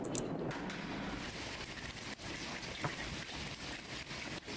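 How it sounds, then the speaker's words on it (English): Steady drizzle of rain in the dark fantasy horror game Lovestarved, a soft continuous hiss with faint patter, alone and fairly quiet, with a few brief clicks early on. "along with the dreary drizzle so frequent in this district"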